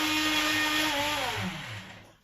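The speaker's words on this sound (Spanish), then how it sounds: "Vamos a pasar por la batidora." A hand blender whirs steadily at close range through cooked vegetables, its motor pitch sliding downward as it slows and trails off near the end.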